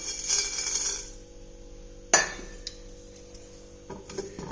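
A metal vessel set down on a kitchen stove for dry roasting spices for a village-style fish curry, heard as a sharp metallic clank followed by a few lighter clinks and ringing taps, close and clear.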